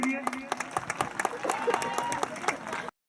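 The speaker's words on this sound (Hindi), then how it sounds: "एक बार जोरदार तालियां इनके लिए।" Loud applause for a young cyclist at an army cultural evening in Sanasar: crisp, rhythmic hand claps from a nearby audience with crowd noise, stopping abruptly into silence just before the end.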